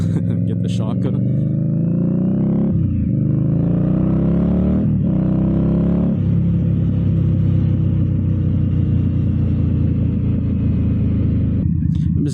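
An Indian Scout Bobber motorcycle engine rumbles loudly and steadily while riding, rising through gears with a few rev climbs and shifts, a constant close drone with faint wind noise.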